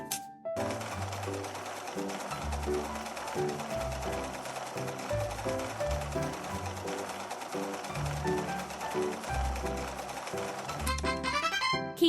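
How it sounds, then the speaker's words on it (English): A video game sewing machine stitches fabric pieces together with a steady, continuous mechanical whirring that runs the whole time over bouncy game music. "Let's sew the pieces together. Press the pedal to sew."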